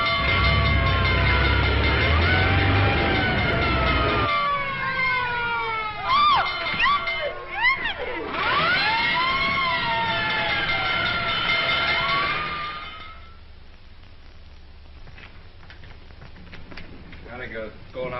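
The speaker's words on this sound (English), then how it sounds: "looks as if I finally get my ride on a fire engine" Wailing, rising and falling fire engine siren from a 1937 comedy film soundtrack, loud and sustained over crowd cheering and shouting, with engine rumble at first and fading toward the end.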